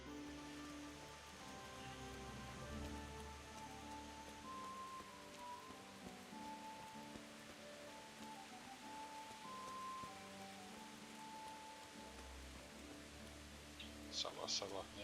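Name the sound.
rain falling in the video game Kingdom Come: Deliverance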